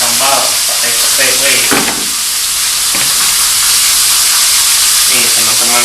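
Petai beans frying in hot oil in a pan, a steady broadband sizzle running throughout with brief stirring sounds and faint voices talking over it.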